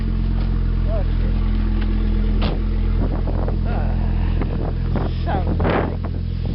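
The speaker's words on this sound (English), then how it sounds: "Sounds like stupid snowmobiles." Distant snowmobile engines drone under the steady low rumble of a nearby idling car in snow, a loud continuous engine hum with scattered knocks and creaks, while a person speaks briefly.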